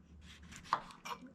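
A Misen kitchen knife cuts through a lemon on a board with two short, soft chopping knocks, close by and quiet.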